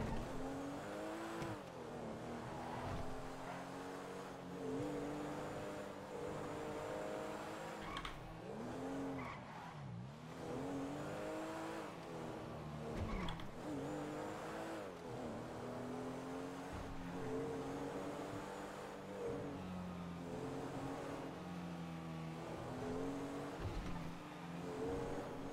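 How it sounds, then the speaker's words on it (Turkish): Porsche car driving and accelerating in a Turkish drama series, engine note rising and falling steadily with tire squeal and skidding, loud and continuous throughout with no talk. "Porsche'a biniyorum işte"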